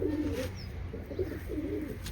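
Pigeons coo softly in a few low, rolling calls over a constant background hum, fairly close and without any talk.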